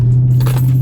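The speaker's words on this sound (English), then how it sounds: "Just dropped the keys." A set of keys drops and jangles inside a Dodge Charger 392 Scat Pack, a brief close metallic clatter over a loud, steady low hum.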